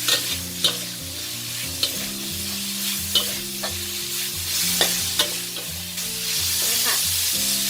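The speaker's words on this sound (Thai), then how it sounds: "เราจะผัดคั่วด้วยไฟแรงนะ เพื่อให้ผักของเราค่ะ เขียวสดสวยแล้วกรอบค่ะ" Vegetables with a little sugar are stir-fried over high heat in a pan, with a steady loud sizzle broken by regular, rhythmic scrapes and clanks of the spatula.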